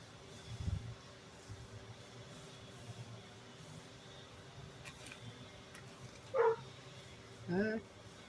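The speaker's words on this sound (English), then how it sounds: "a puppy dog somewhere." A small dog yelps and barks twice in the distance, faint and brief against quiet outdoor background, with an earlier soft thump.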